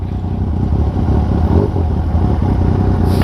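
A Yamaha MT-09 motorcycle engine running loud and close, a dense rumbling growl with rapid firing pulses and slight rises in revs, with a brief sharp burst near the end.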